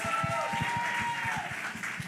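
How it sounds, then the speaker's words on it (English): Audience at a community outreach session claps for a speaker, a dense and steady round of applause with a faint ringing tone running over it. "Y'all clap it up for Miss Kim."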